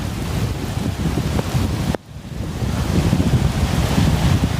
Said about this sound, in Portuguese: A enxurrada provocada pelo temporal do meio da tarde de ontem fez o nível dos mananciais subir rápido